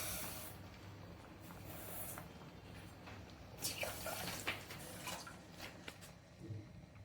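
Two cups of water are poured into a pot to make sugar syrup for gulab jamun, giving a steady hissing splash that runs on for several seconds with no talking.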